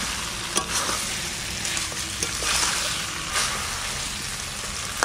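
Country chicken and potatoes fry in a pan, a steady close sizzle running throughout with a few sharp crackles and pops scattered across it.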